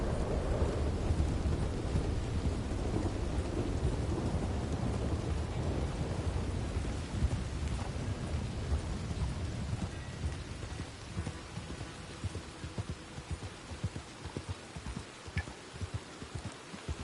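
Steady rain in Red Dead Redemption 2 with low thunder rumbles in a game thunderstorm. The downpour is dense and continuous at first, then thins into scattered drops and patters.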